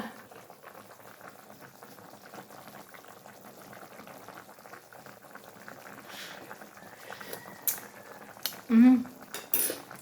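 A pot of chicken tinola boiling steadily with a soft bubbling hiss, then a metal spoon clinks and scrapes against the pot in a few sharp knocks near the end.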